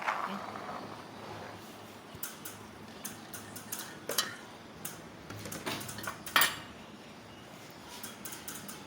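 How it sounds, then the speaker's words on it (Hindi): Boiled potatoes and chickpeas for chana chaat are mixed in a bowl: sparse, faint metallic clinks and taps of a spoon recur at irregular intervals over a quiet room background. "ये देखिए हम इसको मिक्स करेंगे।"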